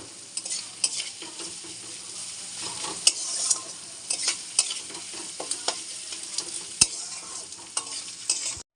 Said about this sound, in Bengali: এই তেলেই আমি পেঁয়াজটা ভেজে নেব